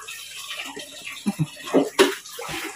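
Pili nuts and saba bananas are rinsed in water, giving a few close splashes and sloshing bursts that come irregularly over a steady wet background.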